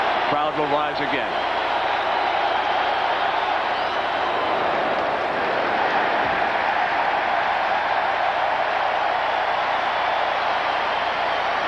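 Large baseball stadium crowd at the Kingdom in Seattle during a 1995 ALDS playoff game, a steady loud roar of cheering and noise filling the whole stretch, with a commentator talking over it.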